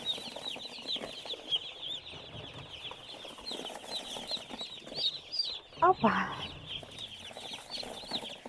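A fresh batch of broiler chicks and naked-neck chickens being delivered, their constant high peeping filling the background while a voice speaks briefly and a bump or rustle sounds near the middle.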